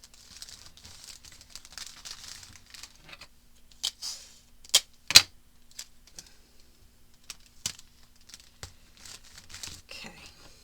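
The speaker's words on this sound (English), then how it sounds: "So we're going to tape this in. I know that's very crinkly." Crinkly tape being handled and pressed into a paper journal, with soft rustles and several sharp crackling bursts, close up and sparse, separated by quiet pauses.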